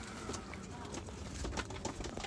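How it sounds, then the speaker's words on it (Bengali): Pet pigeons kept at home, including a paper-white pair with young, give low soft coos amid a dense, noisy background, faint and close. "এই যে আমার কবুতরগুলো দেখাই আগে"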